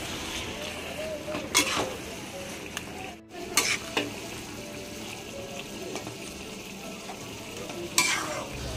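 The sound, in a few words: boiled taro (kochu) frying and stirred in oil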